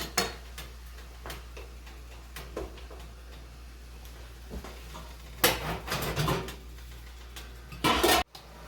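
Blueberries brought to a boil in a pot for canning get a light stir: soft intermittent clinks and scrapes of a utensil against the pot, with a louder stretch of scraping midway and a brief bright clatter near the end, no talking.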